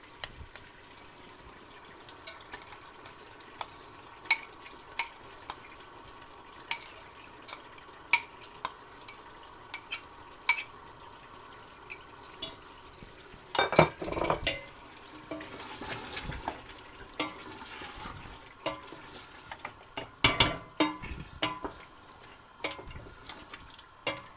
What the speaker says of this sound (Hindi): अब दही डाल के भी मैंने गोश्त को अच्छी तरह भून लिया।